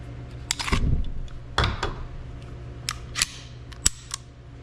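A Mauser-made P38 pistol being cleared: a few sharp metallic clacks and slide-racking snaps, close and crisp, spaced irregularly over a quiet room background.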